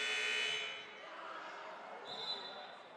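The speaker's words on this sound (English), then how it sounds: "Buzzer sounds at an inopportune time, so Elias has a couple more seconds to mull" An electronic buzzer sounds at a boys' high school basketball game, a sustained tone that fades after about half a second and then gives way to faint gym ambience with a brief higher ring near the end.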